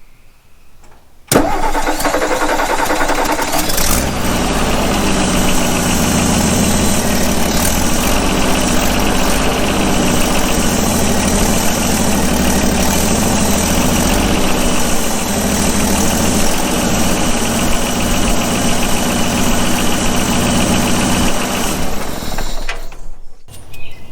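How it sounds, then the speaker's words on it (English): A generator cranks and catches after a quiet moment, then runs loud and steady for about twenty seconds before cutting off abruptly. "let's start it up and see if the generator works"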